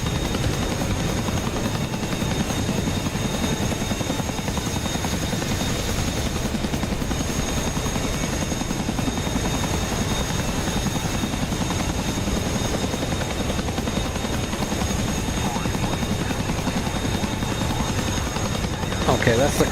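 A Chinook helicopter in the DCS flight game drones with a loud, constant rotor thump and engine whine that fills the whole stretch without letup.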